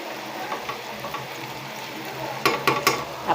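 A vegetable bhaji fries in a pan with a soft steady sizzle, broken by a few scraping stirs and clinks of a spoon, louder toward the end; no voices.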